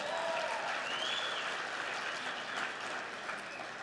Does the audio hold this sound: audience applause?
yes